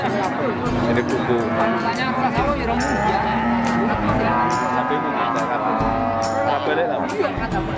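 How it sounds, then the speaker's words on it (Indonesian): Cattle moo from a mother cow with her calf, several drawn-out calls over a busy background of people chatting nearby. "Ini sapi betina indukan plus anak."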